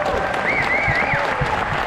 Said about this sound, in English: Yeah, keep that applause up for John Rhys Davies.